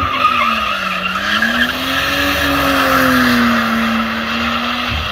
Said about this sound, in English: I said I'd do a burnout.